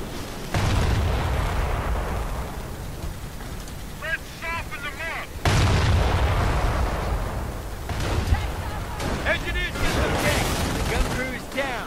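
Artillery cannon fire in the Company of Heroes World War II game on Omaha Beach: two heavy booms open into sustained rumbling battle noise and scattered cracks, with voices talking over the din.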